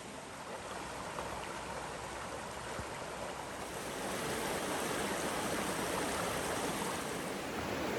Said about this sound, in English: I have literally just been standing around listening to the water